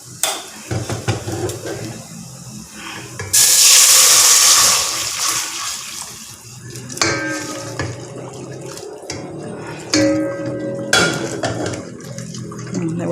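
Hot water pouring into a soup pot for a fish ball and tofu soup, a loud rushing splash that swells suddenly, then settles into softer trickling, sloshing and occasional clinks of the pot.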